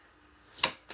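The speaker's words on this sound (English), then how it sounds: "Give this one more good shuffle." A deck of tarot cards gets one quick riffle shuffle, a brief crisp burst of fluttering card edges followed by a soft tap, with no voices.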